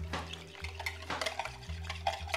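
A spoon scrapes and taps around a bowl while doughnut batter ingredients are mixed, soft close stirring with faint clinks over a steady low hum.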